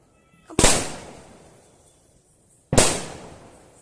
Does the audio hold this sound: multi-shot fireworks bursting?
yes